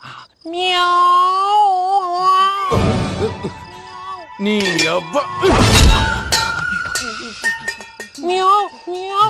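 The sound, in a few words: cat knocking things over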